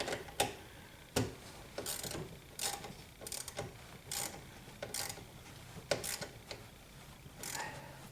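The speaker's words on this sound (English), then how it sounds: "now with my 1/4" wrench, I'm going to tighten the cable on" Quarter-inch ratcheting wrench tightening a negative battery cable on a C7, a steady series of clicking pawl strokes at an uneven pace, close and moderately quiet, no talking.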